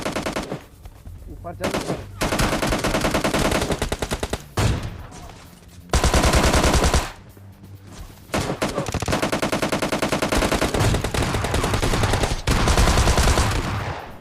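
Gunfire in PUBG Lite, including AWM sniper shots: dense bursts of loud automatic fire and heavy shots in several long stretches with brief gaps, a voice speaking briefly over the action.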